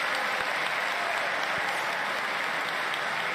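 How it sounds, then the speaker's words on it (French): An audience on a French talk show applauds, a dense, steady wash of clapping from many hands that holds at an even level throughout, fairly close, with no voices standing out. "Et les gens applaudissent"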